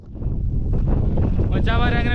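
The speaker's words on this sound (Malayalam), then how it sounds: "ട്രക്ക് ചെയ്ത് ഇവിടെ എത്തിയപ്പോൾ ഒടുക്കത്തെ കാറ്റ്." Strong wind on a hilltop reached after a trek buffets the microphone with loud, continuous rumbling gusts, and a voice briefly rises through the noise near the end.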